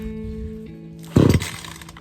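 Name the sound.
Echo CS 400 chainsaw almost starting on rope pull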